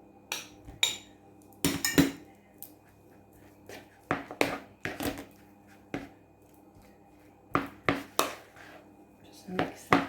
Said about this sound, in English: So we're just going to break it up a little with the spoon.